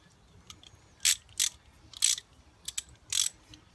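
A ratchet cracks loose 13mm brake caliper bolts on a BMW S1000R motorcycle, giving several short, sharp clicking bursts in an uneven rhythm, close and clear with no talking.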